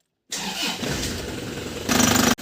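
Engine of a 2005 Isuzu LS Turbo cranking and catching, a short starter whir followed by a steady close idle that firms up toward the end.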